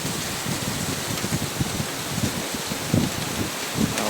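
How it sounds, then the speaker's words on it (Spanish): A heavy evening rainstorm pours down in Córdoba, Spain, as a loud, continuous hiss of rain with irregular nearby drops spattering and gusts rumbling against the microphone. "Gran lluvia en Córdoba, España."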